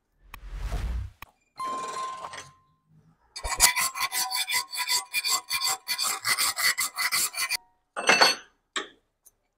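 A few short scraping bursts, then a long run of steady rhythmic rasping strokes of a file on a chisel's metal edge held in a vise, ending with a couple of brief final strokes.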